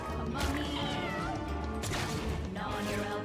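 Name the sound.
spider kittens meowing in the video game Mewgenics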